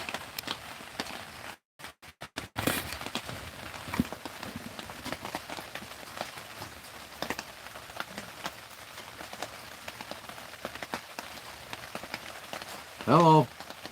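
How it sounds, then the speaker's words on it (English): Rain patters steadily on a tent, a soft, even wash of drops broken by scattered louder taps, with faint movement and a brief sharp noise near the end. "Can you hear the rain hitting my tent?"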